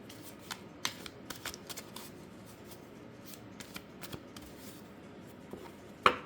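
Tarot cards are shuffled by hand in a quiet room, a steady run of soft riffling clicks and flicks ending with one sharper snap of the deck.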